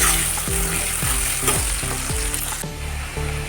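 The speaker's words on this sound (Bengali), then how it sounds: "এখানে আমার দু মিনিট মতো সময় ধরে পেঁয়াজটাকে আমি ভালো করে ভেজে নিয়েছি" Chopped onions frying in a pan for a snail curry, a loud steady sizzle with repeated scraping stirs of a spatula, heard alone.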